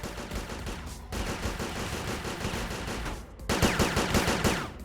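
Gunfire in the tactical video game Frozen Synapse Prime, dense sustained bursts of rapid shots layered over a roaring, continuous din, with a brief dip before a heavier volley, no voices.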